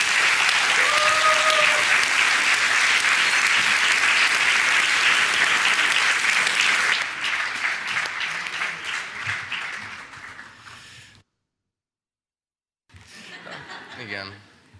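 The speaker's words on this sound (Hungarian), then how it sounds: "egy nagy tapsot Márk Szimonnak" Audience applause for Márk Szimon at a Sunday evening church worship service, dense steady clapping for about seven seconds, then thinning and fading, a short silence, and a brief final burst of claps.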